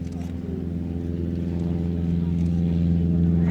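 A rotary-engine vintage aircraft taxiing at the Shuttleworth air show, its steady droning engine hum growing slightly louder, under public-address commentary.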